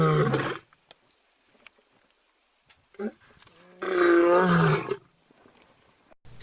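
A lion roar, the kind heard in The Lion King, rises and swells for about a second before fading, preceded by a loud burst and scattered quieter sounds.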